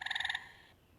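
A gray tree frog gives a brief, fast pulsed trill of about a dozen rapid notes, close and clear, then falls silent.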